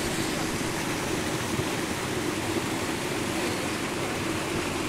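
Water rushing through an open dam at a rural reservoir in Goiabeira, a loud, continuous broadband roar that stays even and unbroken throughout, with no voices over it.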